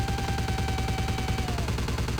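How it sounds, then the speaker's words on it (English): Rapid, continuous automatic gunfire in the game Vampire Bloodlines, dense repeating bursts at a fast, even rhythm, loud and unbroken over a faint tonal game sound. "I can barely hear him over the gunfire."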